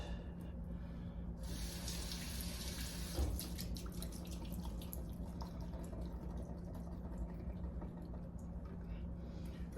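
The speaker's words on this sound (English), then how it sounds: "Rinse them like 3 times." Tap water runs steadily into a sink as canned kidney beans are rinsed for a crock pot pork stew, a continuous close splashing hiss from start to end with no talking.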